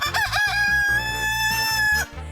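A rooster crows loud and close at a Florida farm animal sanctuary, one long drawn-out call with a falling tail, over a low rhythmic mechanical hum in the background.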